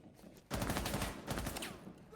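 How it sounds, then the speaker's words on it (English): Rapid gunfire bursts inside a Rainbow Six match, a sharp loud onset followed by dense, sustained crackling shots with a brief dip before another burst, heard close and continuous. "we're already hearing gunfire"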